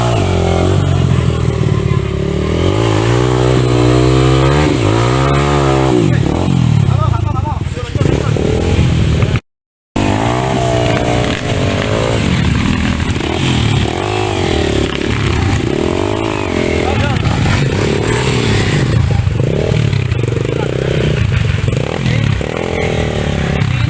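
Motorcycle engines rev and strain loudly on an extreme dirt trail during a group charity ride in Ngoro, Mojokerto, with rising and falling engine whine continuous throughout and people talking and shouting over it.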